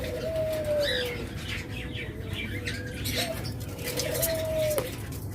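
A pair of green opaline parrots call among other caged birds, giving short chirps, tweets and sliding whistles over a steady background of chatter and low noise.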